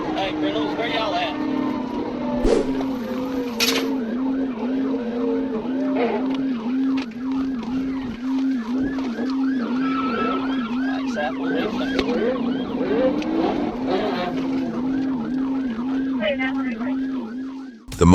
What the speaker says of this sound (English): Officers immediately activated their lights and sirens.